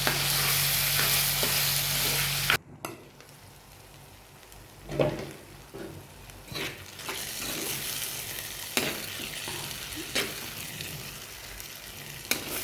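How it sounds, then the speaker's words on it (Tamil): Chillies and tomatoes sizzle steadily in a hot pan while a utensil scrapes and stirs at intervals, close up, with no voices. "மிளகாய் தக்காளி போட்டு நல்லா வதக்கிடுவோம்"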